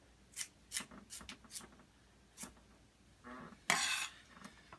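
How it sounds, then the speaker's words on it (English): A knife dices a carrot on a cutting board, giving a string of short, sharp chopping taps at an uneven pace, close and fairly quiet, ending with a louder scraping clatter. "then you just dice the carrot"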